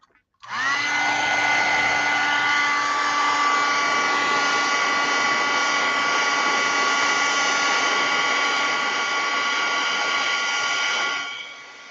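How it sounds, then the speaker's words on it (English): Heat gun blowing hot air to dry paint on a craft project, a loud steady whirring hum that starts abruptly, holds constant for about ten seconds, then winds down, with no speech. "Let me put the heat gun on it really quick so we can dry it up."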